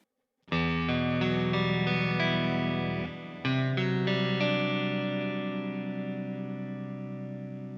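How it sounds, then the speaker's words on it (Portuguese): An electric guitar played through a Tonex pedal and an HX Stomp with delay and reverb rings out in a strummed chord, then a second chord that sustains and slowly decays with echoing repeats, loud and alone. "Vamos jogar um delay e um reverb junto?"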